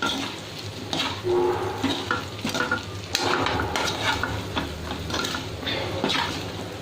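Coarsely ground peanuts are stirred in a frying pan with half-cooked potatoes for a small brinjal dish, giving steady close scraping and rattling with a soft sizzle and no talk.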